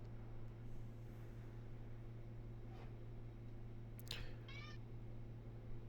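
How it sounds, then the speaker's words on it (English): An angry cat meows twice, faint and distant, over a steady low hum and background hiss. "This cat is pissed off."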